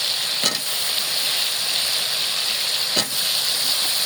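Potatoes and eggplant dropped into a pan of frying spices, giving a steady, close sizzle with two sharp bursts as the vegetables hit the hot oil; no one speaks.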